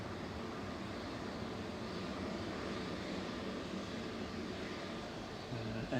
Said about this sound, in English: touching down from Oslo, Boeing 737-700, sorry, 800, GRUKK, flight 160